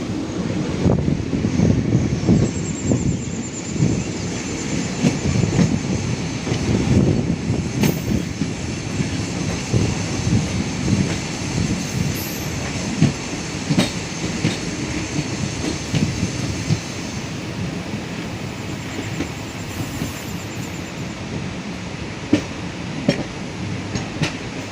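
Passenger train running slowly on the outer approach to Khurda Road, heard from on board as a steady rumble with rhythmic clickety-clack of wheels over rail joints and occasional sharp clanks, no voices.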